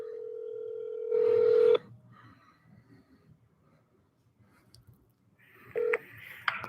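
A phone being dialed to place a call: a steady dial tone, then a loud burst of DTMF keypad tones, a quiet gap and a few more short beeps near the end, heard alone without talk.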